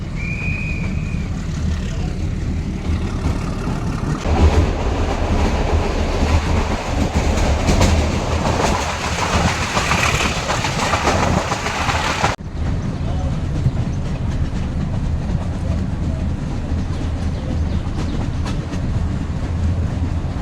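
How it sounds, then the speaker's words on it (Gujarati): A narrow-gauge train on the Junagadh–Sasan Gir–Delvada line rumbles steadily along the rails with rattling clatter close by, loud and continuous, with a brief high whistle early on. "તોરણિયાથી નીકળી ગઈ છે આપણી ટ્રેન"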